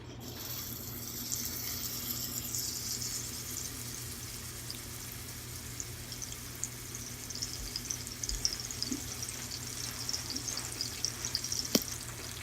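Steak searing in a hot oiled pan, a steady loud sizzle and crackle that runs unbroken throughout with no voices over it.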